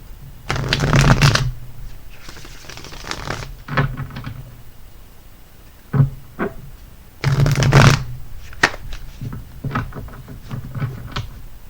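Tarot cards shuffled by hand at close range: bursts of riffling and rapid flicking, then scattered soft card snaps and slides between them, with no voice.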